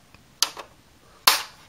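Sharp plastic clicks from the ratcheting turret cannon of a 1985 G.I. Joe Cobra Moray hydrofoil toy, heard as a double click and then one louder click, close and loud with no talking.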